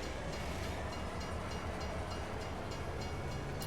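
A train running in Farming Simulator 22 on the Elmcreek map, a steady loud broadband rumble with rolling noise throughout, no speech.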